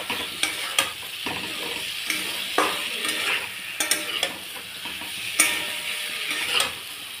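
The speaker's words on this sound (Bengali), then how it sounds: "দিয়ে আমি 2 মিনিট মতন কষিয়ে নেব। একটু গ্যাসটা জোরে করে, খুব করে নাড়তে হবে" Cauliflower curry masala fried on high heat and stirred hard, a steady sizzle under repeated sharp scrapes and knocks of a spatula against the pan.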